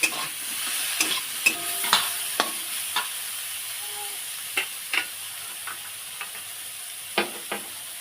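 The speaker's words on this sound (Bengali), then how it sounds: "লবণ ভালো করে একটু কষিয়ে নেবে" Banana pieces cooked with neem leaves and salt are stir-fried in a pan. A hissing sizzle sits under a series of distinct scraping stirring strokes that come at irregular intervals, close and clear.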